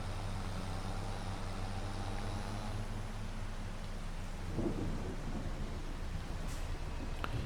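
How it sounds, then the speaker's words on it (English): Light rain falls in the Farming Simulator 25 video game as a steady, soft hiss over a low rumble, continuous and even throughout. "Very light rain, not raining very hard."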